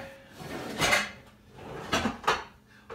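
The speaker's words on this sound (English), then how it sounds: "So I'm going to grab a baking dish and I'm going to grab the ramekins." Ceramic baking dish and ramekins pulled from a kitchen cupboard, a few separate clinks and clatters of dishware knocking together, close and fairly loud.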